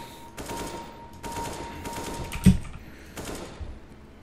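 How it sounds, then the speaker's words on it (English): AK-47 burst fire in a first-person-shooter aim-training game, several short clusters of rapid gunshots in a steady stop-start rhythm at moderate, close volume, with a faint hum underneath. "This would be for using a gun like the AK-47 and trying to improve your accuracy"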